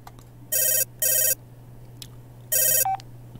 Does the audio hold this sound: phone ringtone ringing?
yes